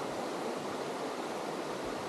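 Eau Claire River flowing past a county park campground in Marathon County, Wisconsin, a steady broad rush of water like rapids, loud and continuous with no voices.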